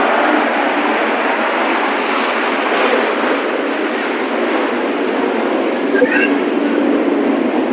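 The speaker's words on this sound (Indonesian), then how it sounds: "Oke, ada iklan pesawat sebentar." Loud, steady roar of an airplane plays in an advertisement, a broad continuous rush holding level throughout, with no talk over it.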